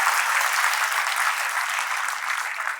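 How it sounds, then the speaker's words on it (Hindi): Loud, sustained applause from an audience of students at a film festival, a steady dense wash of clapping that holds throughout with only a slight easing at the end. "पहले थोड़ी जोरदार तालियों की आवाज आनी चाहिए"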